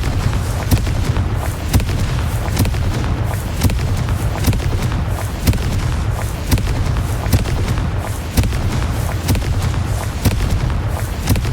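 Repeated sharp magical blasts from the Confringo fire spell in Hogwarts Legacy, a rapid string of bright cracks and thuds over a dense, steady game soundscape.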